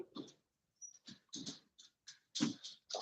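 A puppy whimpers and yips in a series of short, close bursts separated by brief pauses, with no one speaking.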